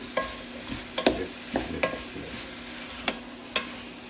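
A spoon clacks and scrapes against a pot of Korean spicy beef soup in a series of uneven stirring strokes while mixing in radish and red pepper powder, close and distinct, over a faint background hum.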